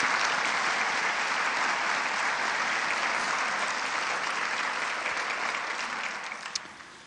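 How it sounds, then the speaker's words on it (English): A school senior awards night audience claps in a dense, sustained round of applause that holds steady, then thins and fades toward the end. "a big round of applause to everyone who contributed"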